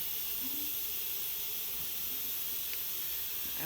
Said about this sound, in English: I'm just waiting for it to finish venting